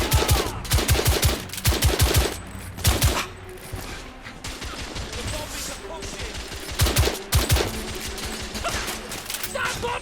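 Gunfire in the video game The Order 1886: rapid automatic bursts and heavy single shots, loud and close, with short gaps of softer rattling between volleys.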